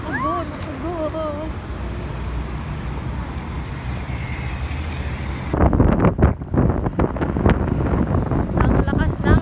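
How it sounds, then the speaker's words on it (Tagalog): Strong wind buffets the microphone outdoors on the way to a park in Abu Dhabi: steady low rushing at first, then heavier, gusty roaring bursts in the second half, with faint voices in the background. "It's so windy."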